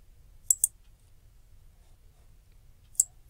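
Three sharp computer mouse clicks, a quick pair followed by a lone click a few seconds later, close and crisp over near silence while objects are selected in Paint 3D.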